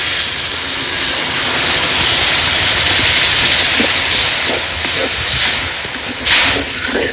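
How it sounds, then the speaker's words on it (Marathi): Water poured into black jaggery in a wok, a loud, steady rushing hiss close to the mic that continues throughout, easing slightly toward the end. "तर आता या गुळात थोडा पाणी घालूया."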